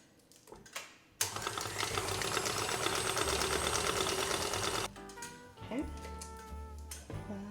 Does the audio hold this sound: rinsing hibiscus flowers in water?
no